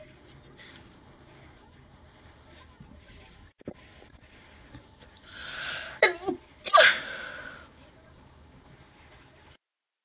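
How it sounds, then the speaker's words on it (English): A single sharp human sneeze bursts out at close range after a short gasp-like intake, standing out loudly against a quiet room background. "I'm gonna sneeze."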